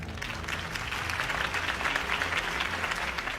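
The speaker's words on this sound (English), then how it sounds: "If only Mr. Wayne, my campaign's largest backer, could have heard that applause" Crowd applause in Telltale's Batman video game following Harvey Dent's campaign speech, a steady dense clapping from a large audience sustained throughout at even loudness.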